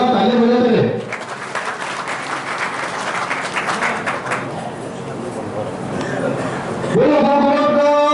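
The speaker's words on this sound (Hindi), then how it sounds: "जोरदार तालियां बजाते रहे।" A crowd at a welcome for a guru claps loudly and steadily for several seconds, dense applause between stretches of amplified speech at the start and end.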